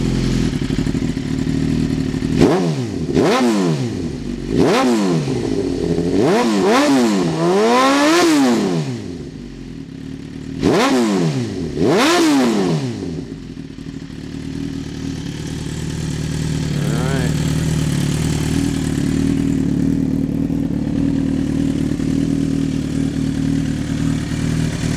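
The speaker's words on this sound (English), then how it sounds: "let's see if I can rev it up and see what you think about the sound." A 2007 Suzuki GSX-R 1000 sportbike engine, warmed up, revved repeatedly from idle: loud, close, sharp throttle blips rising and falling in quick succession, then settling back to a steady idle.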